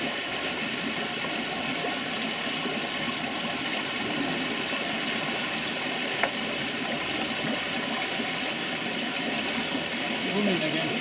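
Water rushes steadily through a koi pond filter during cleaning, a constant loud churning wash with no break, a voice speaking faintly beneath it.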